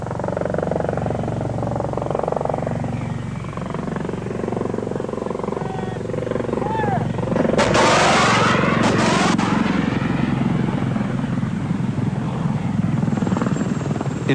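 Apache attack helicopter flying low at treetop level at night, a loud continuous rotor thrum and turbine roar that swells as it passes close overhead.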